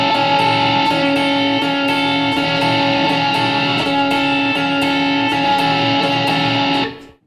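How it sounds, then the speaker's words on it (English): Electric guitar through a Line 6 Helix with a Compulsive Drive pedal, strummed chords in a steady rhythm, sustained overdriven tone that cuts off abruptly at the end, with no talking. "you can hear that it gets quite a bit louder when I kick on that drive pedal"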